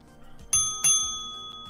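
A soundboard bicycle-bell effect rings twice in quick succession, two bright metallic dings that hang and fade with a long shimmering tail.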